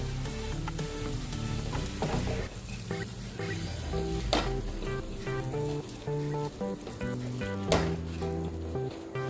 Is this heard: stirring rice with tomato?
yes